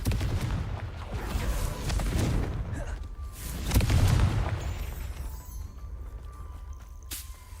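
A Confringo spell explodes in Hogwarts Legacy, giving a booming, whip-like blast that swells near the middle and then trails off into a fading rumble with faint game effects.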